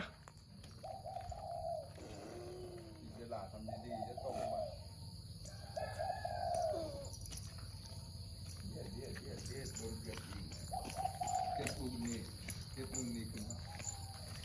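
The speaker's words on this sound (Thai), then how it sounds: "ไก่มันขันอีกแล้ว" A caged rooster crows several times at moderate distance, drawn-out calls rising and falling over a steady background of chirping crickets and other birds, with people talking nearby.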